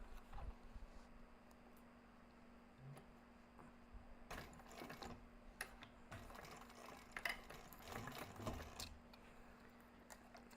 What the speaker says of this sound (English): we're going to sew that as well with the seam allowance